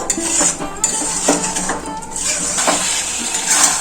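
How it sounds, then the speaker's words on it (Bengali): Chicken being stirred with spices in a pan on the stove, spoon scraping and clinking against the cookware in repeated strokes, close and fairly loud, with no talk over it. "সব মশলা চিকেনের সাথে ভালো করে কষিয়ে নেবো"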